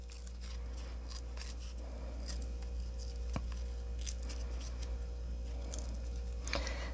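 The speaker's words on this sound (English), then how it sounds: "I'm gonna just tear this side of this one." A thin book page torn slowly by hand for handmade cards, heard as faint, intermittent crisp crackles and rips over a low steady hum; no voices.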